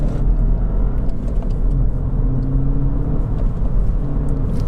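Intake and engine noise of a Mini Cooper S F55 while driving on the road, a steady low rumble with a faint rising whir, heard continuously and close with no talking.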